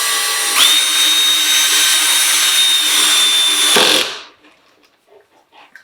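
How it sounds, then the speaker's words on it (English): Power drill driving a screw into a wooden key rack, one loud close whine held for about three seconds before winding down and stopping, followed by quiet handling. "I had to drill about a level 10 on the clutch."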